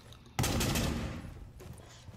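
Gunfire from a recoil-free gun in a video game, a sharp loud burst of rapid shots opening after a short quiet lead-in, then tailing off into a fainter rattling decay with a few small reports.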